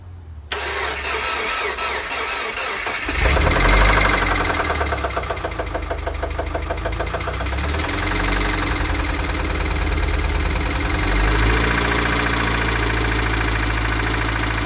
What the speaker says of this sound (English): All that tapping we could hear is just lifter knock or lifter tap.